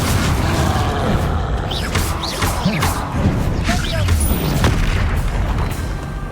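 Confringo fire spell blasts in a Harry Potter video game set among centaurs, a dense, loud rumble of booming explosions and whooshes that runs without a break, with someone talking excitedly over the game sounds.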